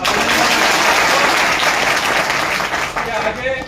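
An audience at a public gathering in Deodar claps loudly and continuously, the dense applause thinning out toward the end.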